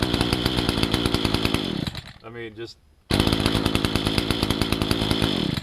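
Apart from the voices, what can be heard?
chainsaw running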